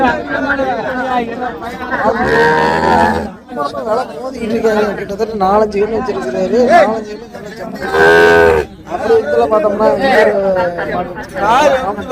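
Cattle at a native cow market moo loudly and repeatedly in long, drawn-out calls, close by, over a steady background of chatter and talking people.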